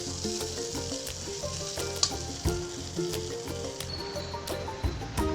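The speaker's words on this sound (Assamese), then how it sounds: "ভেন্দিখিনি এনেদৰে ভাজিলে বহুত টাইম নালাগে।" Okra (bhindi) fries in a pan with a steady close sizzle, broken by regular scraping stirs and small pops throughout; no one speaks.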